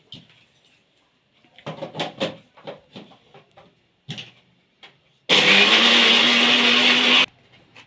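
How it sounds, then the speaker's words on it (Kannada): A mixer grinder whirs loudly and steadily for about two seconds, grinding spinach with ginger, salt and wheat flour for paratha dough, after a run of quieter kitchen handling sounds. "ರುಬ್ಕೊಳ್ಳೋಣ ಮಿಕ್ಸಿ"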